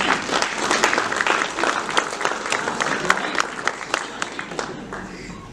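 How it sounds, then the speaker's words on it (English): Wedding guests break into steady applause after the couple are pronounced married, a dense run of clapping with a few sharper claps standing out, lively and fairly close. "big round of applause,"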